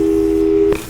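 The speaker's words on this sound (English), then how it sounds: "let's give your parents a call right now" A steady electronic telephone tone plays loud and alone in Portal 2, holding for most of the moment before cutting off abruptly into a brief click.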